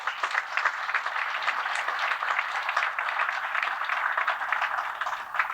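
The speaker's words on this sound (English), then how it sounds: "They deserve a round of applause." Room-filling applause from breakfast attendees at a veterans' breakfast at The Flying Bridge restaurant in Falmouth, a steady, dense patter of many hands clapping continuously at moderate volume with no talking.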